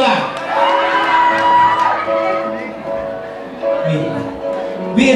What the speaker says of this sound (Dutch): Mensen, applaus voor Elias Toga.